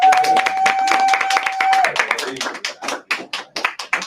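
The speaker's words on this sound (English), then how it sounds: "Y'all clap it up. Clap it up." An audience claps and taps in a burst of short scattered claps at the close of a podcast episode, with a voice talking over the first half and the claps thinning toward the end.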